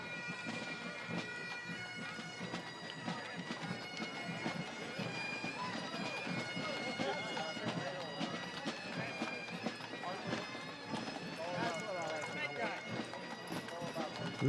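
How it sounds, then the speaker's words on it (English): Big horses clip-clop along the street in a Memorial Day parade, a steady run of hoofbeats under crowd chatter and talk. "Look at those big old horses."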